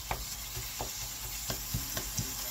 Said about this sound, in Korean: 이 갈은 고기가 골고루 이렇게 잘게 다져질 수 있도록 부셔주면서 볶아요